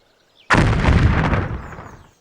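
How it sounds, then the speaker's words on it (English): A 100-pound bomb from the gbombs 5 addon detonates in Gmod: sudden, loud and close, with a heavy roar that slowly fades over more than a second. "some pretty cool looking explosions in here"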